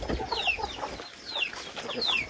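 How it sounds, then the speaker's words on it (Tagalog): Chickens cluck and call nearby on a rural property in the Philippines, several birds overlapping in short bursts against steady outdoor background noise. "Yan yung mga manok ko."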